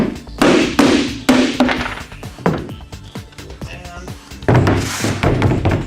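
A hammer taps a reproduction wine barrel carving in the shop with a series of loud, close knocks and thuds, irregularly spaced, alone without talk.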